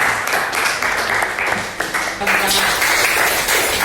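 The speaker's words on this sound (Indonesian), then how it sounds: "Berikan aplaus untuk kita." Audience applause at a school presentation session on analysing 2D visual art, a steady broadband wash of clapping that holds throughout, thickening and growing louder in the second half, with some talk mixed in.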